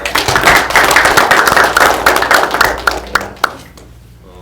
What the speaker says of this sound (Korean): 박수로 시작하도록 하겠습니다.